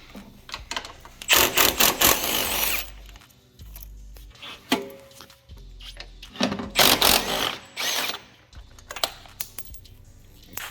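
A ratchet wrench with 10mm and 8mm sockets loosening bolts on a support panel of an S197 V6 Ford Mustang, rapid clicking bursts in several separate runs, close and loud with short pauses between.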